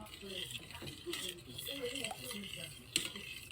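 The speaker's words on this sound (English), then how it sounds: "we're gonna stir it with the same spoon with the honey so we can get the rest of the honey off of there" A spoon stirring honey into homemade Buffalo sauce, with soft scraping and light clinks against the bowl under steady talk.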